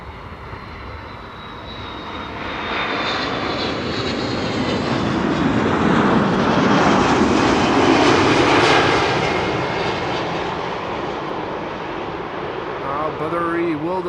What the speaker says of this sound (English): Vueling next after that, flight 8309 arriving from Barcelona.